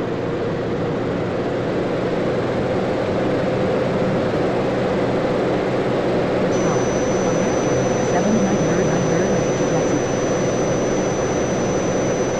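A jet airliner in Tower! 2011 spools up for takeoff with a loud, continuous broadband engine roar and a thin high whine rising partway through, and a voice speaks faintly beneath it.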